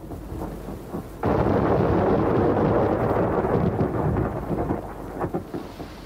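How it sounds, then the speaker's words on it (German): A furious thunderstorm in a German children's audio play: a sudden loud crash of thunder bursts in after a second and rolls on with heavy rain beneath, close and dense, no voices. "wurde der Himmel ganz dunkel und es kam ein furchtbares Gewitter."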